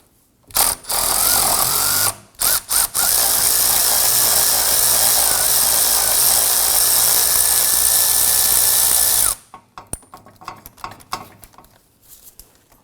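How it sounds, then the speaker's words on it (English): An electric ratchet on an extension with a swivel whirs loudly and close in a few short bursts, then one long continuous run as it spins out a bolt on a 2003-2014 Volvo XC90 rear hub, followed by scattered clinks. "I'm going to use my extension and my electric ratchet with a swivel"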